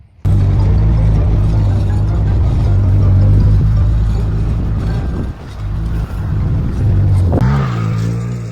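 A vehicle dragging a harrow across pasture, a loud close engine drone with a steady low hum that dips briefly and shifts near the end.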